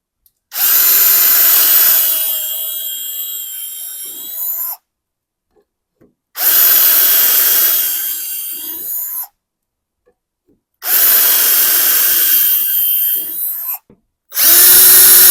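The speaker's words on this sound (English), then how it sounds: "And then we're ready to drill again." A power drill boring dowel holes in wood through a Milescraft JointPro doweling jig, three loud, close bursts of whining drilling of about four seconds each, separated by silence, with a fourth starting at the end.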